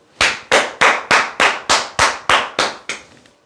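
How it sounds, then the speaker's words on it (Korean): Sharp, loud, evenly spaced claps ring out at a lecture on insurance telemarketing, about ten in a steady rhythm, each with a short decay, the last one weaker. "박수!"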